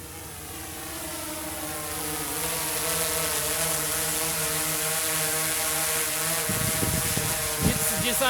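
DJI Inspire 2 drone flying with a stabilising gimbal and 360 camera, a loud steady whirring buzz of rotors with layered harmonic tones that swell slightly and hold, plus brief bumps near the end.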